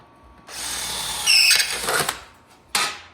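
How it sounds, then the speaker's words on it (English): A power drill whines at high speed, biting into a car floor's sheet metal to drill plug-weld holes with a rising squeal, pausing briefly, then a short final burst of drilling. "So drilling the holes"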